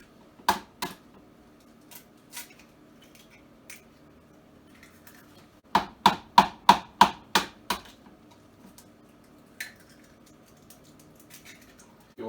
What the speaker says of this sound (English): Take the eggs one at a time, break them into the bowl.